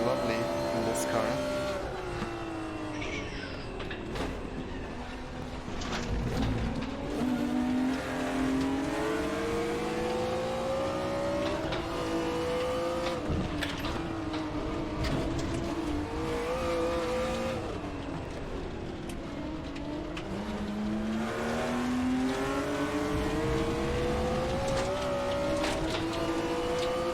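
BMW M1 Procar race car engine in the RaceRoom racing game, revving and rising through gears continuously at close range with steady loud drone and shifts, under occasional talk.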